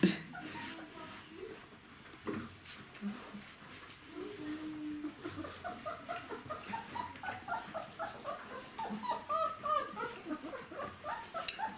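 Twenty-day-old puppies whimpering and yipping in a rapid, repeated series that grows busier and louder, with some rustling and faint voices in the background.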